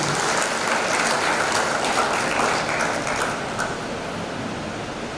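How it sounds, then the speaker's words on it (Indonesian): Steady, dense applause from a large audience at an undergraduate graduation ceremony for STIM Lasharan Jaya, a rain-like wash of clapping that holds strong and then eases slightly without talking over it. "Tepuk tangan dulu."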